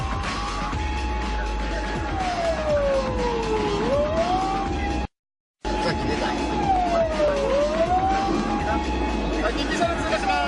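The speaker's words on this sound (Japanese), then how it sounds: "緊急車両通過します。" An emergency vehicle's siren wails past twice in a pursuit on a Japanese road, its pitch swooping down and back up over steady traffic rumble, loud and near, broken by a brief silent gap.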